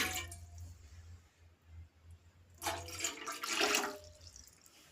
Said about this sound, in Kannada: ಅದಕ್ಕೆ ನಾನಿಲ್ಲಿ ಒಂದು ಎರಡು ಲೋಟದಾಗುವಷ್ಟು ನಾನು ನೀರನ್ನು ಹಾಕೊಳ್ತಾ ಇದ್ದೀನಿ